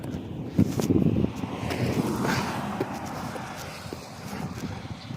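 Cold wind blowing hard outdoors in a town, a steady broad rush buffeting the microphone with gusts and some rustle, continuous and close, with no talking.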